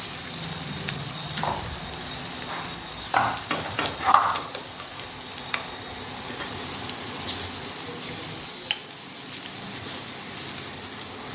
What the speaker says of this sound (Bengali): পেঁয়াজটা ভালো করে ভাজবো, মানে লাল করবো না, ভাজবো একটু।